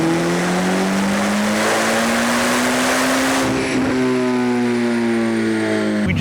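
A Corvette C8 ZR1 engine on a JB4 Map 0 tune roars through a hard pull, pitch rising steadily before a brief shift and a continued high-revving drone, loud and close.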